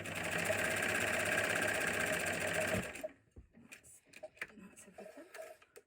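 A sewing machine stitches fabric for a hot water bottle cover, running as a loud, steady motor buzz for about three seconds before stopping abruptly, followed by quieter handling clicks and rustles.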